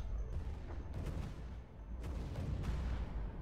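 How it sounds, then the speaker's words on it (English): Ship explosions during space combat in the strategy game Stellaris, several dull booming blasts and crackling bursts over a steady low rumble, spaced irregularly across the passage at moderate loudness. "Look at the explosion. Boom, boom."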